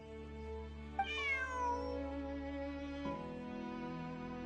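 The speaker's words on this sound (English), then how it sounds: "Bonnie is Pierre's cat." A cat meows once in the Genshin Impact video game, a clear, drawn-out meow over a quiet steady background tone, with no speech.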